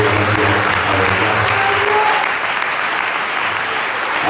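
A church congregation at a Sunday service applauds steadily, a dense, loud wash of clapping from many hands that holds throughout with a faint musical tone underneath.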